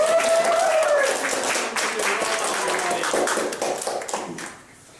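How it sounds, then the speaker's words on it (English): An audience at a 2020 refreshers' show breaks into applause, a steady wash of clapping that fades out near the end, with voices under it. "Oh, give a round of applause."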